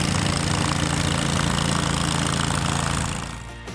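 A Ventrac tractor mower on a Kentucky horse farm runs with a steady, loud, close engine drone that holds even, then drops off and fades near the end.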